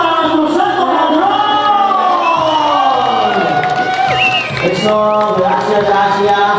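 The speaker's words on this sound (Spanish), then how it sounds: "¡Regalo un aplauso para nuestro santo patrón!" Crowd cheering and whooping for the patron saint at a village fiesta in San Juan Mixtepec, Oaxaca, a loud, continuous wash of voices with shouts rising over music-like tones throughout.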